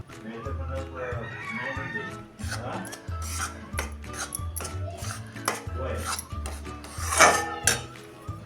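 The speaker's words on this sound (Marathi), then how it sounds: "हे आता आपण चांगलं हलकं होईपर्यंत गॅसच्या लो फ्लेमवर भाजून घेऊया" A mixture being dry-roasted and stirred in ghee in a pan over a low gas flame, making repeated raspy scraping and rubbing strokes of a spoon against the pan, with a brief louder clatter near the end.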